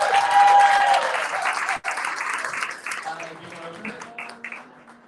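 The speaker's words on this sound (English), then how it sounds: "Give Lauren and Danielle a big round of applause." Applause from an audience at a holiday party and annual meeting, a dense burst of clapping that starts loud and close, dips for a moment, then tapers off with voices talking over the fading claps.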